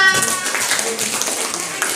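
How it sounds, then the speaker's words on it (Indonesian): A classroom of students claps for a presenting group, brisk scattered clapping that fades into lighter patters, with voices talking over it. "Oke, tepuk tangan buat kelompok 2."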